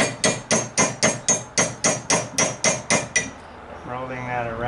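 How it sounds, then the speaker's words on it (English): Metal hammer striking a snap being riveted over on an anvil for a wooden boat's foils: about a dozen sharp, evenly spaced ringing blows close up, then a quieter scraping rolling sound. "And then we're just going to rivet over the snap there"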